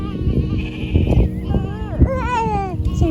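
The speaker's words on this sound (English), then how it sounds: "We're looking at and feeding the goats right now." Goats on a farm bleat nearby in several wavering cries, loud and close, over rustling background noise.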